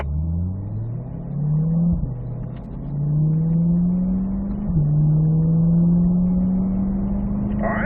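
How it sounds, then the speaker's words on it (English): A Corvette at Ron Fellows Corvette School's North Course pulls hard on throttle around the track, the engine note rising through the gears with a brief dip at each upshift into 4th, loud and close from inside the car. "let's go ahead and squeeze down on throttle there, Gary. 4th gear."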